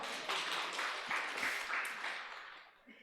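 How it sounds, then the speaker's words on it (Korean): Brief, fairly soft applause from a church congregation during a Sunday morning service, a few seconds of scattered clapping that fades out quickly. "박수 한번 쳐줘봐요"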